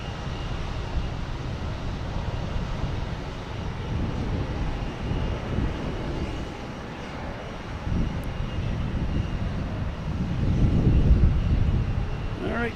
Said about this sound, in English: Here's Delta A220 coming in from Nashville